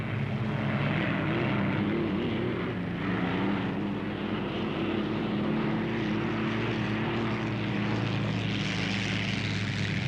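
Unlimited hydroplane race boats roar out of the turns and build power toward top speed in the chute, a dense, continuous engine drone with heavy low rumble that swells slightly, loud and unbroken throughout.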